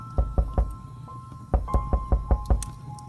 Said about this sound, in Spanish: alguien tocó a la puerta